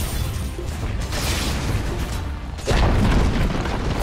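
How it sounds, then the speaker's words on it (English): A Dire bottom tower crumbles in Dota 2, a heavy crashing boom that bursts out loudly near the end after a rumbling stretch of battle noise. "Dire's bottom tower has fallen."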